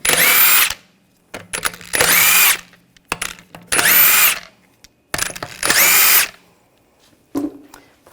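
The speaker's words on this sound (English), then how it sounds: "take the lug bolts out." A power tool with a 17mm socket spins lug bolts off the rear wheel of a 2007-2013 BMW X5, giving five loud, close bursts of high whirring, each about a second long, separated by short quiet gaps.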